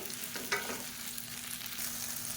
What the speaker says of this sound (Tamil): இப்போ இதை நல்லா வதக்கி எடுக்கணும்